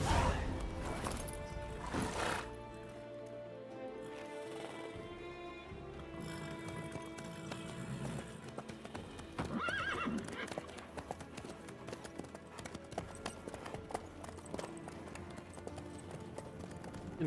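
A horse gallops in The Witcher 3, its hooves drumming in a fast, steady clip-clop alongside a whinny, with game dialogue voices heard over the hoofbeats.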